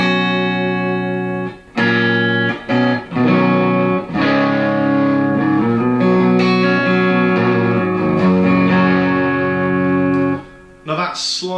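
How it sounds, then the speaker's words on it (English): A clean electric guitar tone plays through an amplifier with reverb, sustained chords and single notes ringing out loudly, with short pauses between phrases. "The tone you're hearing really is the guitar and the amplifier, and so here is kind of a clean tone."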